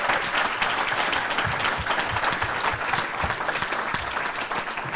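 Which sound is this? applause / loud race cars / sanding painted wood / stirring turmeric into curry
applause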